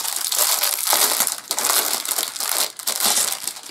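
Sealed plastic packaging holding a RAM module is torn and crumpled open, producing loud, close crinkling and crackling in bursts with brief pauses.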